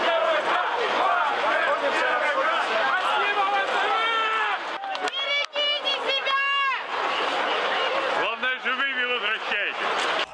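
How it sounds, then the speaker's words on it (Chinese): A large street crowd in Rostov cheers Wagner troops pulling out in trucks, with loud continuous shouting and many overlapping voices, surging chants and whistles close by. "画面中，一群民众大声欢呼"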